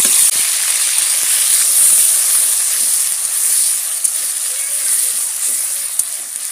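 Whole spices dropped into hot oil in a kadai give a loud, unbroken hissing sizzle that holds steady for several seconds, close and bright, with faint clinks and pops scattered through it.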